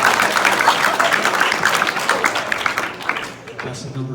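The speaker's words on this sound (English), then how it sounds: "big round of applause for contestant number 1" An after-prom hypnotist show audience claps and cheers for a contestant, lively close applause with shouts that thins out and tapers after a few seconds.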